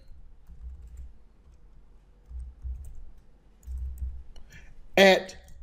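Computer keyboard typing, entering an email address on a sign-in page, comes as low soft clusters of keystrokes in several bursts, ending in one louder sharp click.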